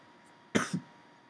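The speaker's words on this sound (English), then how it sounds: "Sorry I'm coughing." A person gives a single short cough, a sharp burst with a softer second push, alone against quiet room tone.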